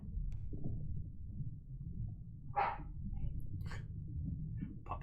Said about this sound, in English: Puppy sounds increase.